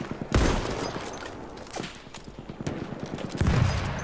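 Heavy cannon and gunfire in the Battlefield 1 multiplayer beta: loud booming blasts open and close the stretch, with a steady crackle of rapid shots and bursts between them, close and relentless.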